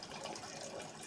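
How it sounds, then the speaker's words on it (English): Water runs steadily from a tap, a soft, even rushing hiss that carries on unbroken with no voices over it. "Do I hear like water running?"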